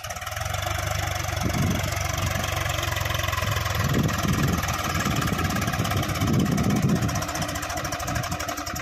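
A tractor pulls a cultivator through a farm field on a rainy day, its engine chugging with a steady, knocking rhythm and a few heavier surges as the tines dig in. No one speaks.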